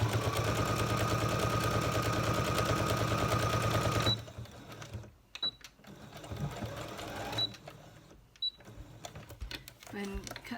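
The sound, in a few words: sewing machine chain sewing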